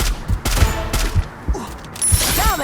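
Rapid bursts of video game gunfire crack in quick irregular volleys, several sharp shots spaced close together, loud and near amid game noises, with no speech.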